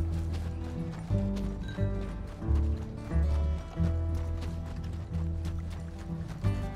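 Horse hooves clip-clop in the video game Red Dead Redemption 2, a steady galloping rhythm of repeated thuds under a sustained low musical drone, loud throughout the run with no voices.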